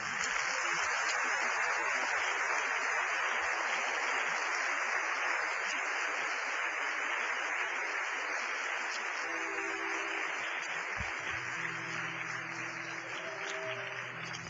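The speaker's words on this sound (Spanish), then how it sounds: "Demos un aplauso al Rey." Congregation applauding in a church, a sustained broad wash of clapping that continues steadily, with a low music-like tone entering under it toward the end.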